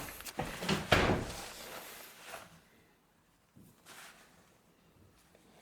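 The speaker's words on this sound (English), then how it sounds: "Here, I'll close the door maybe." Someone in a house swings a door shut while a bird is loose inside, giving a soft scuffing sweep, then a muffled knock and a faint rattle before quiet; everything is close and unaccompanied by speech.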